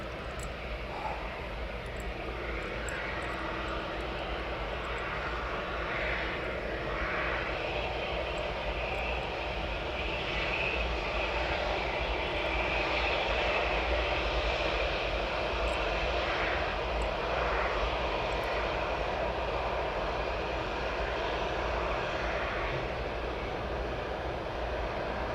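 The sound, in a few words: aircraft engines, planes pushing back and taxiing at airport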